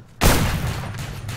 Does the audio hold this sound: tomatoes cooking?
no